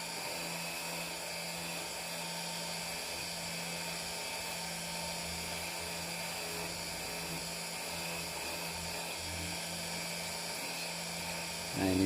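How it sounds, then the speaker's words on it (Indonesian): Coarse sandpaper on a power tool worked against the sole of a high-heel platform sandal, giving a steady, loud, unbroken whine and grind close by that holds throughout. "Ini baru dikasih amplas yang kasar, karena ini nggak usah halus-halus"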